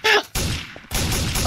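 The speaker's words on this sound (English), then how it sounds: "Flashbang." A flashbang grenade goes off in the video game Garry's Mod with a sharp, loud blast and a hissing ring that fades. A second broad burst of noise follows, and a voice is faintly present.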